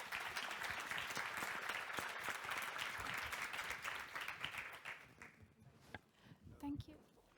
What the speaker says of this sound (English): We'll ask the audience a big round of applause